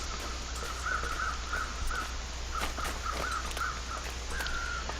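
Crows caw in The Long Dark video game, a steady series of faint, evenly spaced calls carried over a constant wind-like hiss with no talking.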